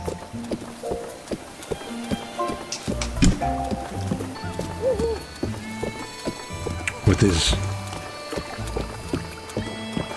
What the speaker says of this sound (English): Horse sounds.